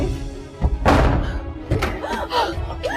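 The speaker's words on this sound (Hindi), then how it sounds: "तोड़ दो दरवाजा।" A door being forced open shows as several heavy thuds and slams in a tense domestic scene, with a distressed voice calling out over the impacts.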